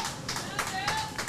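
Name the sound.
crowd clapping in support at women's cricket match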